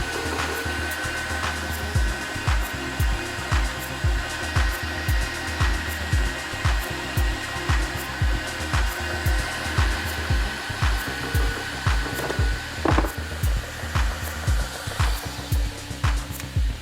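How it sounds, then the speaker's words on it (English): Power grinding on a handle, scalloping its surface: a continuous loud whining drone broken by regular rhythmic pulses as the tool bites in repeated passes, alone without talk. "Right, back to the grinding."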